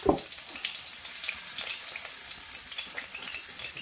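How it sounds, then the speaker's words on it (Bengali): Whole spices, cloves and black peppercorns, fry in hot oil, giving a soft steady sizzle with faint crackles, quiet and close, with a sharper clatter at the very start. "সুন্দর করে ভেজে নিবা"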